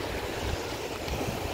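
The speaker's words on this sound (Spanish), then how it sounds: "Las olas pegan acá, mirá, a ver qué onda acá." Sea waves breaking on the shore at night at Mar del Plata, a steady close broadband wash and rumble of surf with no voices.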